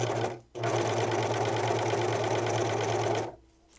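A sewing machine runs steadily through a seam on improvised snow pants, a continuous loud whirring hum for about three seconds after a brief pause, stopping near the end.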